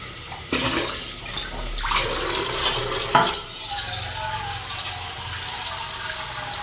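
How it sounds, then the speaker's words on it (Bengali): Water pours into a frying curry in a gushing, bubbling rush with a hissing sizzle, surging in a couple of bursts and then settling into a steady simmering hiss. "কষিয়ে নিয়ে এইবার পরিমাণ মতো জল দিয়ে তরকারিটাকে সিদ্ধ হওয়ার জন্য"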